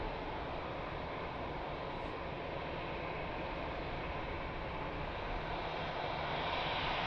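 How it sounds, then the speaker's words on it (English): A Delta Boeing 767 airliner rolls out after landing at Lisbon Airport, a steady broadband roar of jet engines holding at an even level throughout, distant and unbroken. "Delta, nice landing, 767."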